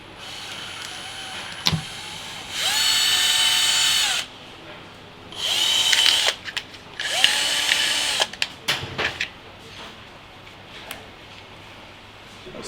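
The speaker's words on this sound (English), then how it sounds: "You can either use a drill machine if you have one" A power drill bores a hole through a plastic bottle cap in three loud bursts of steady high whine, each a second or two long, with short pauses and a few clicks between them.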